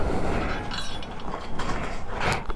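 Small bolts on a Yoshimura RS3 exhaust mount for a 2023 Honda Monkey are tightened, with close metallic ratcheting clicks and light clinks of tools in a short, steady run.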